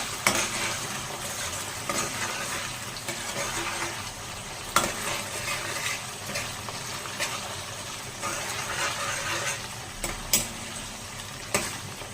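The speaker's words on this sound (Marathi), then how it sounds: "छान लाल होऊ द्यायचं, भाजू द्यायचं मसाला." Onion and masala paste with ginger, garlic and chilli roasting in a pan for green chickpea usal, a steady close sizzle broken by scraping stirs and occasional clinks of a spoon against metal.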